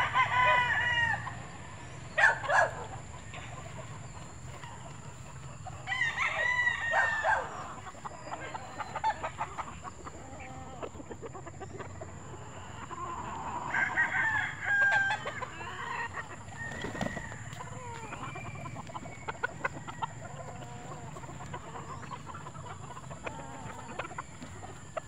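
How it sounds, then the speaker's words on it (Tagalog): Backyard chickens cluck and a rooster crows in bursts while being fed in a home poultry yard, the calls fairly close but spaced out over a quiet outdoor background with no speech. "nagpapatuka siya ng mga manok."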